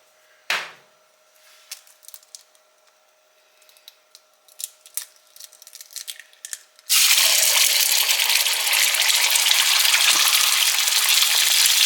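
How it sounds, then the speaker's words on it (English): One egg drops into hot oil in a skillet and erupts into a loud, dense, continuous sizzle, after a stretch of small clicks and taps of a quiet kitchen. "I put me some more oil in my skillet back here, and I'm going to fry up one egg"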